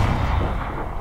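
A heavy, booming tank cannon impact from a KV-1 in a tank video game, one dense low rumble that lingers and fades across the second.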